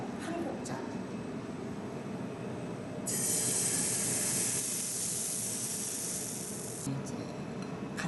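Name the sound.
ladle of buckwheat batter sizzling in hot pan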